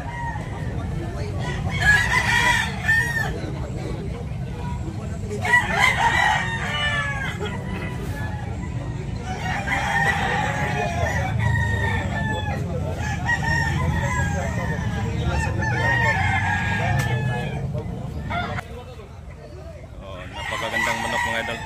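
Gamecock roosters at a market crow repeatedly in long, strained calls, with clucking and other birds around them, while someone talks over the noisy, bustling background.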